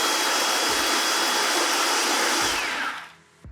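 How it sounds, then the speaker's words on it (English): A food processor grinds flax seeds with pistachios, a loud, steady high-pitched motor whir that runs unbroken for about three seconds, then cuts off and winds down. "I'm just gonna grind up the flax seeds with the"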